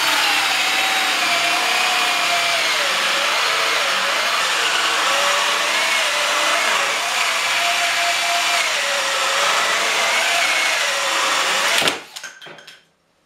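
A 1.25-inch Forstner bit drilling a hole in wood, a steady whining drill drone with slight wavering pitch that runs for about twelve seconds and then stops abruptly.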